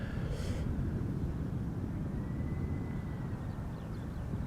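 A 26-year-old Icelandair Boeing 767-300 airliner in new livery, flight 500, on approach to land on the Polderbaan runway at Schiphol Airport; a steady, distant broadband jet roar that holds constant throughout.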